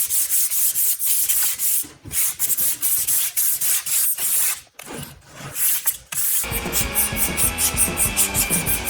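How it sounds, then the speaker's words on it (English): Steady, close, loud rasping of sandpaper on a wooden cutting board, in long back-and-forth strokes with a few brief pauses. The texture changes near the end into a faster, more even scrubbing rhythm. "now I'm gonna go ahead and sand this down"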